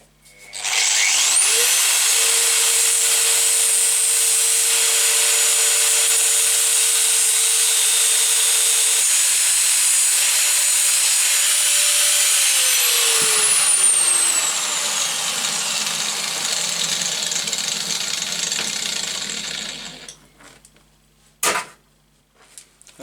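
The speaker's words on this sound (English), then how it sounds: "so I'll just cut the chain to the correct size." A power tool grinds loudly and steadily for about twelve seconds cutting a 110cc go-kart chain to length, its pitch dropping as the cut finishes, then it winds down to quiet with a couple of clicks.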